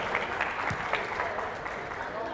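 Audience applause at a campus busking event, steady clapping from a gathered crowd spread evenly across the moment, with faint voices mixed in.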